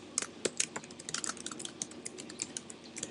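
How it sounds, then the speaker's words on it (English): Steady, close-up typing on a computer keyboard, a quick irregular patter of key clicks with a few louder taps, no voices. "You can participate by typing into the dialog box."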